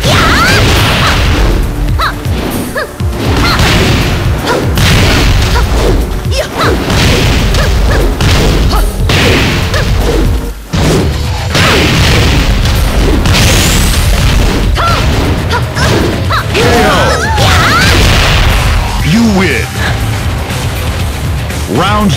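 Fighting-game combat in Tekken 8 between Alisa and Zafina: a dense, loud barrage of booming hits, whooshing swings, cracking smashes and thuds, continuous over game music and effects.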